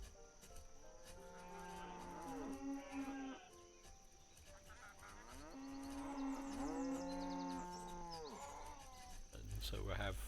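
Cattle mooing in the Banished colony-building game, several long drawn-out moos in two clear bursts over steady ambient game background, fairly loud and close.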